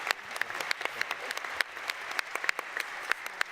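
An audience at a ministerial session on resilient transport systems applauds in a steady, fairly faint wash of clapping with sharp individual claps, and no one speaks over it.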